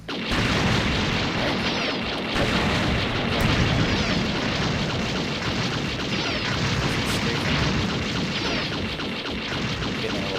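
Continuous heavy blasts from a beam rifle in the online mech game UCGO, loud and dense, with booming impacts and crackling bursts layered over each other across the whole stretch, no speech.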